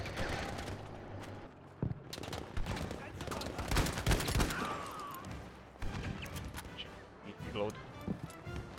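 In Battlefield V, bursts of machine gun fire and scattered gunshots crackle in rapid clusters amid battle noise, loud and close, with voices shouting over the firing.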